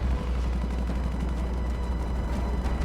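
Rumbling gunfire and explosions in a Halo game mission form a dense, continuous low boom with rapid crackling, loud and steady with no speech.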